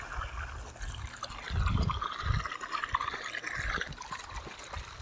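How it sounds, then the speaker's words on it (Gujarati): Well water trickles and flows into a farm field through an irrigation channel, a faint, continuous liquid babble with occasional low splashy bumps. "કૂવાનું પાણી થોડુંક જ આવે છે"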